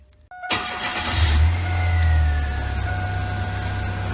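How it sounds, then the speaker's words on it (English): After a brief electronic tone, a Pontiac Sunfire's engine cranks and catches with a quick flare of revs, then settles into a steady idle. Close, with no speech. "you're going to want to start the car up"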